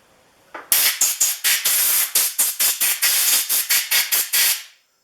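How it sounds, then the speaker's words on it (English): An air hose blasts oil out of a hand plane body in a quick run of about fifteen short, loud hissing bursts, evenly spaced and close, then stops. "then I hit it with the air hose"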